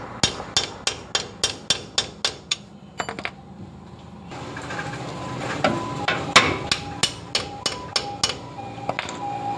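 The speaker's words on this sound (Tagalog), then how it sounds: "Isentro mo lang siya sa kanyang tray at pukpukin kasi medyo masikip na yan." Sharp, evenly spaced hammer blows knock a replacement gear change pedal into its tight-fitting tray, a run of about ten metallic strikes, then a scraping pause, then another rapid series of close, ringing hits.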